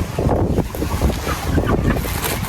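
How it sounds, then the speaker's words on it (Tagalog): Strong gusty wind on a mountain trail, roaring and buffeting the microphone close-up with a dense, continuous rush that surges and eases over a couple of seconds, no voices heard. "Oh, grabe hangin talaga."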